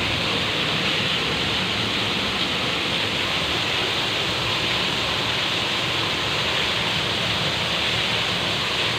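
Heavy rain pours down in a dense, steady roar, loud and unbroken throughout with no voices.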